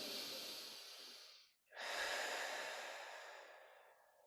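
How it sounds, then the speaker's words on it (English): A single deep breath during a Pilates flow class, heard close and soft: a long inhale, a brief pause, then a slow, airy exhale that fades away. "take a nice deep breath."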